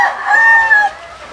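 A Boston Roundhead broodcock rooster crows once, near and loud, its call rising and holding steady before tapering off into quiet background.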